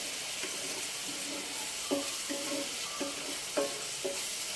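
Ginger, garlic and onion paste fries in oil with a steady hiss, while a utensil knocks against the pan several times in an uneven rhythm. The sound is close and no one speaks.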